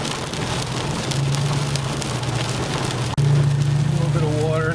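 Steady rain pours down during a micro-burst wind storm on flooded streets, a dense constant hiss heard from inside a slowly creeping car with a low engine hum beneath, growing slightly louder after a brief break near the end.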